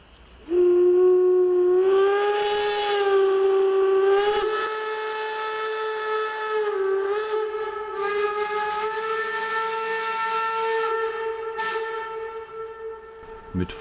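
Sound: steam locomotives departing with fully open cylinder cocks

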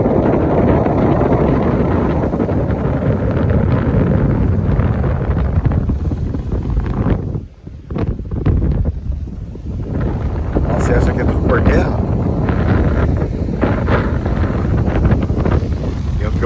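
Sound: strong wind at the beach

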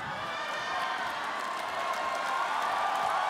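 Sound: Filipino crowd in Macau cheering at fight

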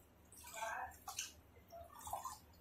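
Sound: water being drained from boiled rice

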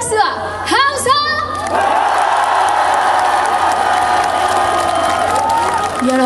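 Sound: audience applause and cheering at temple concert

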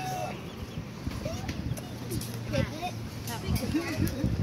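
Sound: baby chicken clucking

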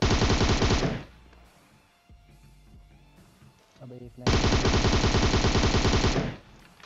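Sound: machine gun spray fire in PUBG Mobile video game

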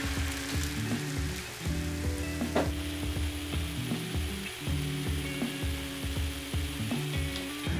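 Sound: chashu pork marinade sizzling in a hot pan

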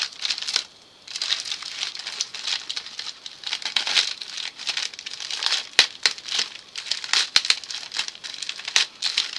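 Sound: opening a taped Temu package, crinkling plastic

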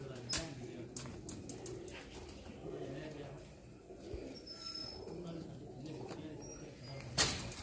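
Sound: pigeon cooing

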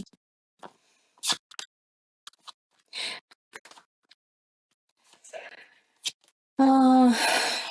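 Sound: shuffling a deck of tarot cards

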